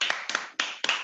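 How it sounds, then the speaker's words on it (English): A few sparse, faint claps, roughly four slow hand claps in about a second, sound after a theatre production of a play, close and isolated rather than full crowd applause. "Let's give another round of applause"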